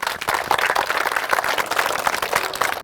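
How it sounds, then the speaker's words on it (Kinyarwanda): An audience at a fire-safety demonstration for children claps together in dense, continuous applause that stays fairly loud and even for about three seconds. "tumuvugiriza amashyi"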